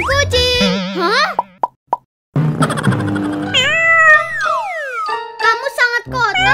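A cartoon cat meows in rising and falling cries among plops, chimes and other cartoon effects, with a voice talking over parts of it.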